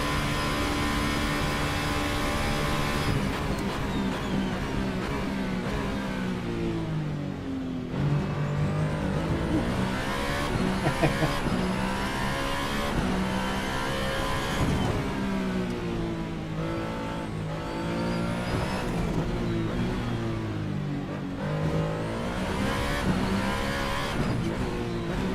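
A VRC Formula Alpha race car lapping Interlagos in a sim racing game, its engine screaming through repeated rising revs and quick upshifts, loud and close with no voices.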